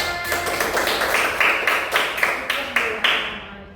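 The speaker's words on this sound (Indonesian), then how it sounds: "Tepuk tangan semuanya." A classroom group claps in a short run of about a dozen quick, fairly even claps, close and moderately loud, fading at the end with faint voices underneath.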